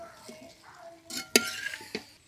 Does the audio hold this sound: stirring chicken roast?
yes